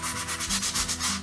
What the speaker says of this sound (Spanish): Vamos a lijar, lijamos